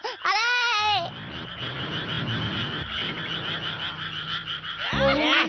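A frog croaks in a Ninja Hattori cartoon, heard among loud cartoon sound effects: a rising warbling tone at the start, a rough rumbling stretch, then another burst of sweeping tones at the end.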